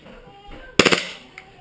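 A faulty KSC Glock 18C airsoft pistol set to full auto fires a brief rattling burst of three or four quick clicks, close and sharp, then falls silent.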